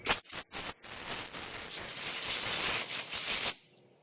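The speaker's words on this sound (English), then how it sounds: "Keep an air blower right on the nozzle, output nozzle of my air compressor hose. So you just blow it." Compressed air from an air compressor hose blasts through a blower nozzle in a loud, steady hiss with a few quick stuttering bursts at the start, then cuts off abruptly near the end.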